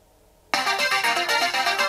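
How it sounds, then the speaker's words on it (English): A Casio G-Shock GPR-B1000 Rangeman watch sounds its phone finder alert: a sudden, loud electronic ringtone of rapid repeating beeps starting abruptly after a moment of quiet and continuing steadily. "And it will come up with phone finder, and you'll have this noise."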